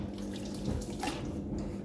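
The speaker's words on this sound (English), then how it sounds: "I'm gonna use just water and try to catch as much as I can with a bucket" Water poured over the front brake parts of a 2000 Audi A4 B5 and caught in a bucket, a steady close splashing rush with no speech.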